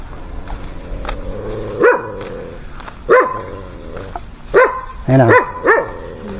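A dog barks in several loud, close yelps and barks spaced a second or so apart, with a quick double bark near the end, while people talk in Tagalog in a home setting.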